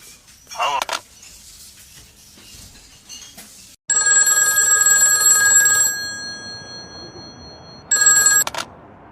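A telephone rings loudly in two long electronic bursts, the first lasting about two seconds and the second shorter, preceded by a brief clatter and a quiet stretch.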